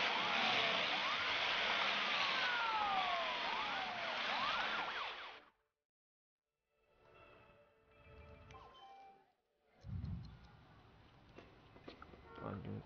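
Wailing emergency vehicle sirens sweep up and down in the SimCity city-building game, loud and layered for about five seconds before cutting off. Quieter game sounds and faint tones follow.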